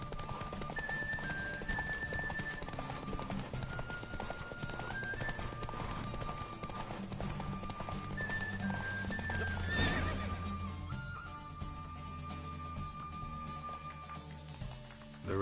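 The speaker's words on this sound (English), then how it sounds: "The Roach I chose put in a nice run." A horse gallops in a race in the video game Witcher 3, with rapid clip-clopping hooves and whinnies over a background of game music, building to a louder burst near the end.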